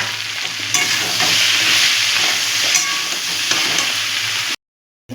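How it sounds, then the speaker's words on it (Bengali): Drained soybean chunks hit a pan of frying vegetables with a loud, close sizzle that rises sharply and hisses on steadily with small crackles, then cuts off abruptly; no voices. "আমরা সোয়াবিনগুলো এর মধ্যে দিয়ে দেবো, জল ঝরিয়ে রেখেছি আমরা, এর মধ্যে দিয়ে দিব।"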